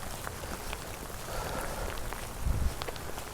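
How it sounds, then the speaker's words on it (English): Steady, dense rain hisses without a break, a fairly loud wash of drops with a few brief patters and thumps near the end. "the rain's getting heavier now"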